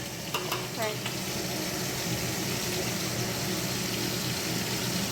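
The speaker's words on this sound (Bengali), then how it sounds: "আর এখানে মাছ ভাজা হচ্ছে।" Fish sizzles in a pan over a village cooking fire, a dense steady crackle and hiss throughout, close and fairly loud, with a few brief clinks near the start.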